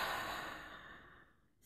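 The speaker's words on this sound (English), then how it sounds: "Okay, so take a deep breath." A single deep breath during a guided relaxation ritual, a soft airy exhale that fades gradually over a couple of seconds, close and quiet with no talking.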